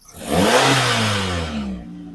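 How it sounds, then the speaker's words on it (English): A Hyundai Getz engine with its exhaust cutout valve closed idles, then revs up with a deep, steady exhaust note that gradually settles back down, sounding fairly muted, tame and close. "I'll show you what the car sounds like with the valve closed"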